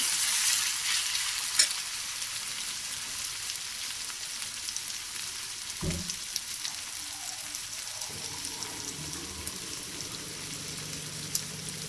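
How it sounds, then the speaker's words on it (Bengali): Onions fry steadily in a pan for a fish-head mung dal, giving a continuous close crackling sizzle with a single clatter of a utensil about halfway through. "পেঁয়াজটা ভেজে নিচ্ছি ভালো করে।"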